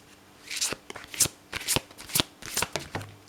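Oracle cards being shuffled by hand, a series of crisp riffling bursts in an irregular rhythm, close and fairly quiet with no talking.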